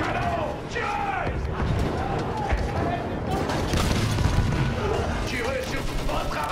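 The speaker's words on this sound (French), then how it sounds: "Un canon! Tirez!" Battlefield 1 war game combat: booming cannon and artillery fire mixed with gunfire and mechanical clatter, heavy and continuous, under shouted voices.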